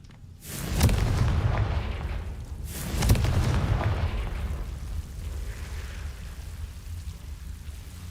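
A Confringo spell explosion in the Hogwarts Legacy video game: two heavy booming blasts a couple of seconds apart, each trailing off into a long rumbling, crackling roar that fades slowly.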